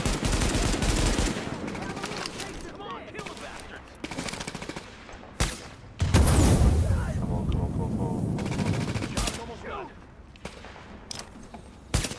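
Rapid automatic gunfire and sharp single shots crackle in The Division's Dark Zone PvP, loud bursts with brief lulls and a heavy blast midway, a voice talking faintly underneath.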